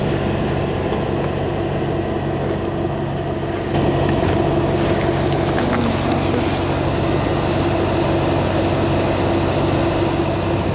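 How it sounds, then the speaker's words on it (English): Heavy, steady rotor and engine drone of a large firefighting helicopter over a California brush fire, loud and continuous, swelling slightly partway through as it passes close overhead. "Very large helicopter, great presence, and great sound when you're on a big fire like this."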